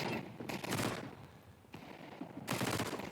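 Gunfire from a Counter-Strike professional match at the StarLadder Budapest Major, a couple of sharp, loud shots among bursts of in-game combat noise.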